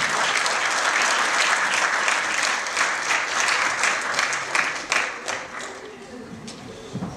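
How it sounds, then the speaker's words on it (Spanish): Audience at a stand-up comedy show breaks into sustained clapping, a full even wash of many hands that tapers off near the end with a few remaining claps. "Que sigue el aplauso para Roberto."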